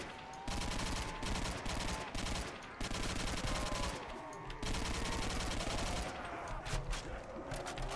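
Rapid, dense gunfire from the Call of Duty: World at War zombies mode on the custom map UGX Comosea, round 13, with loud automatic bursts running almost continuously and only brief gaps.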